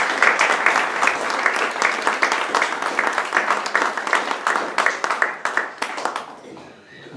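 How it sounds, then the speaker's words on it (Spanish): An audience at a poetry evening applauds the author of a newly presented poetry book, loud dense clapping that continues steadily, then thins into a few separate claps and fades near the end. "vamos a darle un aplauso al autor de El llanto de las amapolas"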